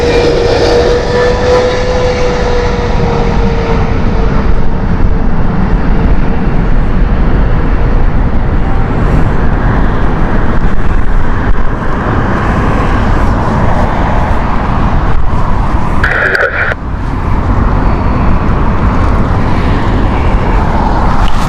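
An Air Canada airliner at Heathrow Airport on a windy day produces a loud, sustained engine roar with a tone that slowly falls and then holds steady, broken by a brief dip near the end.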